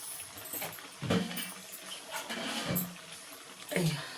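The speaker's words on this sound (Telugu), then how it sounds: "ఇప్పుడు ఇలా వాటర్ వేద్దాం." Water poured into a cooking pot, a close splashing gush rising in a few surges over a background hiss.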